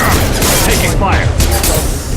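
Loud gunfire and impacts in the sci-fi shooter game Mass Effect 2, a dense barrage of shots and thuds filling the whole moment, with voices mixed in.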